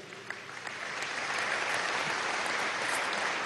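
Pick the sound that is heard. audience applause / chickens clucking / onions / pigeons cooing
audience applause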